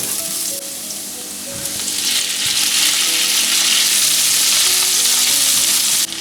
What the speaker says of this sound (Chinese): 葱姜蒜爆香